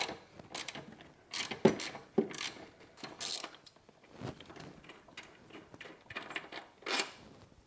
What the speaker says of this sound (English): So I'm just going to start by removing this 14mm bolt in the back.